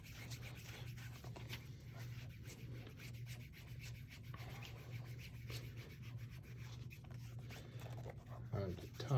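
A cloth rubs across a wax polish finish in a steady, soft, close scratchy swishing, continuous and faint throughout, with a brief louder scuff at the end.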